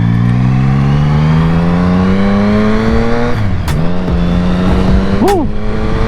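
A Triumph Speed Triple 1050 motorcycle is ridden close by, its engine tone climbing steadily under acceleration through the gears. A brief shift dip comes partway through, followed by short bursts of wind or voice near the end.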